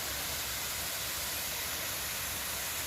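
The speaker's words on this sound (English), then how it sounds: "come down here and see this really pretty waterfall" Rushing waterfall on the Fiery Gizzard trail, a steady broadband roar of falling water heard alone and fairly loud throughout.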